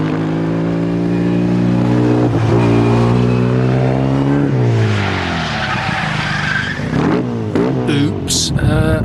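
A car engine revs hard on a race track with rising and falling harmonic sweeps through several gear changes, with grinding crunches and tire skids, loud and close.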